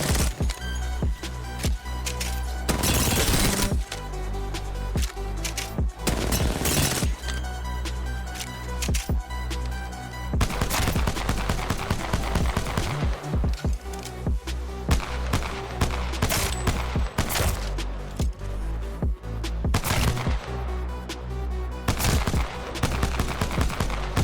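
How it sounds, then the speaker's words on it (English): Gunfire from Apex Legends on a target range, single-shot Wingman or P2020 pistol fire, comes in repeated sharp reports and rapid bursts across the whole stretch, loud and close with no speech. "I usually do single weapon, like a Wingman or a P2020 to the targets."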